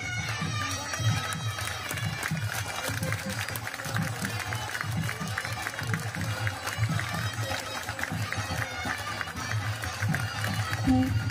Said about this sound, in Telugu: అందరూ కూడా నమస్కారం చేసుకొని గట్టిగా చప్పట్లు కొట్టాలి